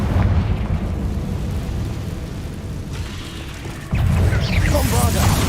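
A Confringo fire spell blasts in Hogwarts Legacy, a loud rumbling burst with crackling debris over steady low booming, followed by a fresh sharp impact and fizzing sparkles near the end.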